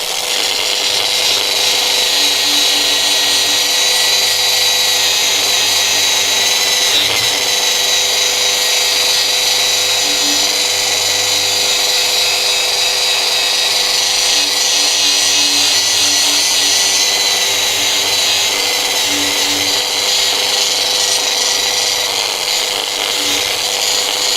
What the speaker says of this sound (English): mirror finish, 3 steps, variable speed angle grinder